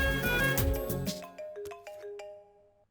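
A phone rings while a number is being called, a melodic electronic ringtone that starts loud and full, then breaks into a few separated chime notes that fade away; clear and close, with no talking over it.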